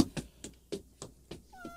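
A cat meows repeatedly in a close, fairly quiet room, about six short separate calls spaced roughly a quarter second apart, with a faint high steady tone near the end.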